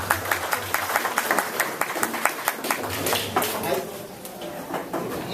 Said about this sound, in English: you should give Mitchell another round of applause